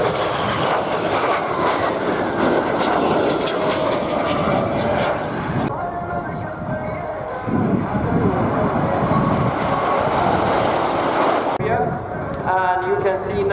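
A military jet passes at an air show with a steady, loud engine roar that swells and shifts in pitch as it goes by, while a commentator talks throughout.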